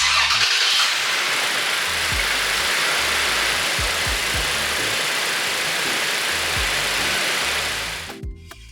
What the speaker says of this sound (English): we're going to start our vehicle and let it run for a few minutes to get everything circulated